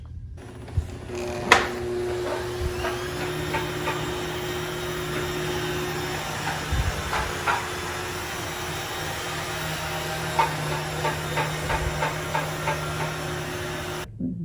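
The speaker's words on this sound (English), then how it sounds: "I'm just gonna steam clean around it." A Shark Steam and Scrub S7001 steam mop hisses steadily while cleaning a bathroom floor, with a continuous motor whine and scattered clunks and knocks as it moves, close and loud.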